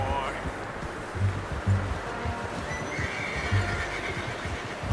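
Horse whinnying in Red Dead Redemption II, a short neigh rising over steady outdoor game ambience with low rumbling bursts, fairly close and moderately loud.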